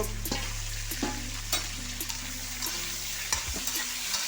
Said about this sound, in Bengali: এটাকেও হালকা ভেজে নেব।